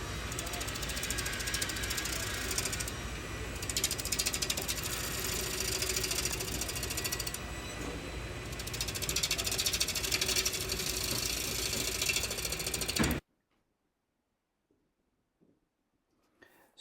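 A spalted tupelo blank spins on a wood lathe while its corners are turned down toward round, giving a loud, continuous rumble with rough tool chatter that swells and eases, then cuts off abruptly, leaving near silence.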